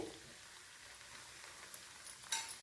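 Malpua batter frying in ghee in a pan for rabri malpua, a steady soft sizzle throughout with a brief brighter crackle near the end, no talking.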